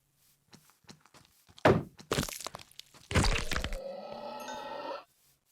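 A few sharp thuds and crunching hits land in quick succession on an infected mob in a Minecraft parasites mod, followed by a strained, distorted creature groan that cuts off abruptly.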